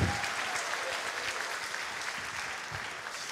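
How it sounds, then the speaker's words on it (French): A crowd at the closing song event of the Francophonie Games applauds a man on stage, loud, dense clapping sustained throughout without pause or speech. "Un grand applaudissement pour ce monsieur."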